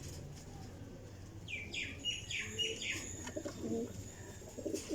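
A female Teddy pigeon gives low, soft coos, joined by a few higher chirps from other birds, all faint against quiet background hum.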